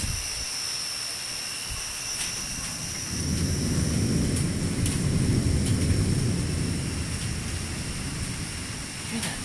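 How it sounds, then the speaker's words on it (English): Deep thunder rolls through a severe thunderstorm, a low, rumbling swell that builds midway and lingers for several seconds before easing off, with no voices over it. "Hear that thunder rumbling?"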